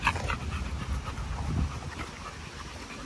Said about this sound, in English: you can walk three dogs with the leash